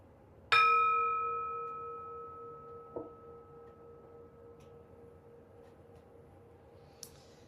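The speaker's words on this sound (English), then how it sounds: "I will ring the bell to start us and to close us" A single bell is struck once to open a short meditation practice, a clear ringing tone that sustains and slowly decays over several seconds in a quiet room, followed by a couple of faint small knocks.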